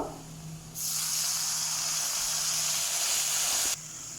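A sudden loud sizzling hiss bursts out as water is poured into a hot frying pan with garlic paste, holding steady for about three seconds before cutting off abruptly.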